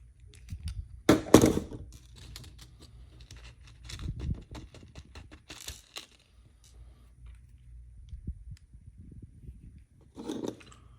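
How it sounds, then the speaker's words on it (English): Small plastic parts of an RC truck kit chassis being assembled, with a few sharp clicks and thunks as the middle cross member snaps into place, close up and intermittent over quiet handling noise, no talking. "That clicking sound was the middle cross member here finally catching its place in the chassis."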